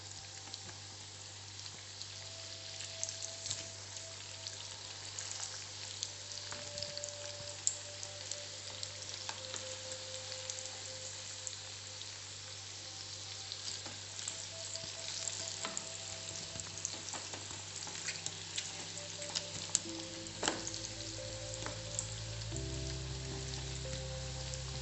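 Boiled rice fries in a pan with a continuous close sizzle, and a spoon or spatula scrapes and stirs through it now and then. No voices are heard.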